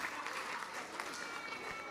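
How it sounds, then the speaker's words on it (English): Steady applause from a crowd at a public library grand opening, a dense even patter of clapping heard from some distance and fairly faint. "Let's cheer for them all."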